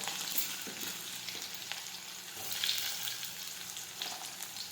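Chillies, curry leaves and onions sauté in a pan for urad dal, a soft, fairly faint hiss of frying with occasional light stirring, no voices.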